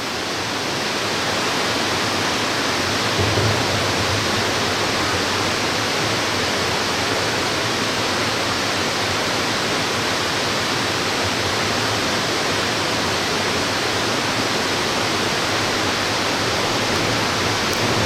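Water pours over the edge at Tallulah Gorge in Georgia, making a loud, continuous broadband roar that holds steady and unbroken without any talk.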